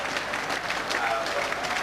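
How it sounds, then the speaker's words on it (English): A football crowd applauds at a Plymouth Argyle v Exeter City derby after a 1-0 win, a dense, steady clapping wash with a commentator's voice running over it. "The applause will be rich."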